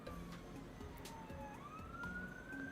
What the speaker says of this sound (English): That is an ambulance, fire truck, something like that. Don't know, maybe police car.